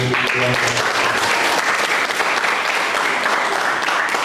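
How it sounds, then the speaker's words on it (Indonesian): Middle school students on a visit to an Islamic museum burst into loud, close applause, a dense sustained clatter of many hands, with a brief tonal voice or sound near the start beneath it. "tepuk tangan untuk"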